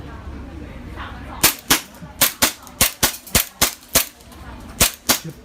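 A Taiwanese WE BB gun fires about ten sharp, close cracks in an irregular quick sequence after a quiet start, over faint background noise.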